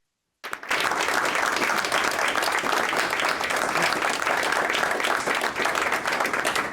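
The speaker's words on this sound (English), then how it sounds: "let's give our panelists another round of applause" An audience applauds panelists at the close of a health-system conference session, the clapping starting abruptly after a short silence and continuing as a thick, sustained, fairly loud round with no speech.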